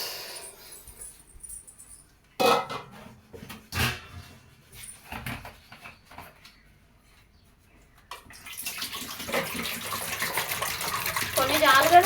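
A few sharp knocks and clatters, then a steady, close rushing of water poured into a pot of sweet potatoes that keeps going to the end.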